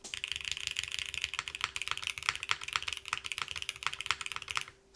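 Steady, fast typing on a Cerberus TKL mechanical keyboard, a tenkeyless board, with crisp clacky keystrokes in a dense, close rhythm, briefly pausing near the end.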